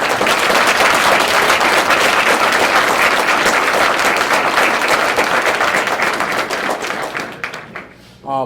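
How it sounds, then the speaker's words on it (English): An audience at a fire department swearing-in ceremony breaks into loud, dense applause that holds strong, then thins and dies away near the end, just before a voice briefly returns. "Round of applause for Mike."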